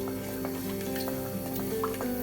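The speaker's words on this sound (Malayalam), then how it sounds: "നമുക്കിതിലേക്ക് 1 സ്പൂൺ കടുക് ഇട്ട് കൊടുക്കാം." Mustard seeds splutter in hot oil for a Kerala pumpkin and bean erissery: scattered small pops and crackles, fairly faint, over a steady background hum.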